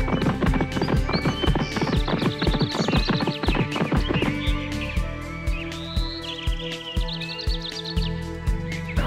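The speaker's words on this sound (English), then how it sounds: "The horse started running even faster." Horse hooves clip-clop in a fast, steady galloping rhythm, loud and close, with a whinny breaking in partway through.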